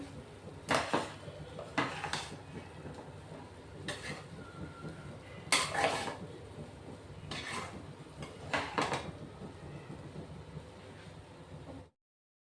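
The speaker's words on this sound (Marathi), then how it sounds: "गॅसवरून आहे ना आपण कढई आता खाली उतरवलेली आहे" Several clanks and scrapes of a metal wok against a gas stovetop as it is lifted off, spaced irregularly over a low background hiss, fairly close.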